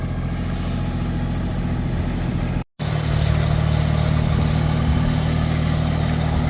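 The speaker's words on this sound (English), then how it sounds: "They turned the engine RPMs down a week or so ago, so it's not screaming as loud" Irrigation pump engine in a cornfield, throttled down to lower RPM, droning steadily with a strong low hum and broadband roar, briefly cutting out for a moment before resuming at the same even pace.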